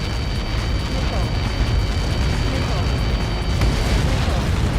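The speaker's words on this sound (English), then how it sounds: "How many got caught in that explosion?" A massive projectile impact explosion in the combat flight game Ace Combat 7 roars as a loud, sustained rumbling blast with dense crackling debris, filling the whole span without a break.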